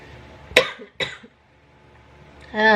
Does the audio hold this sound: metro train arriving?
no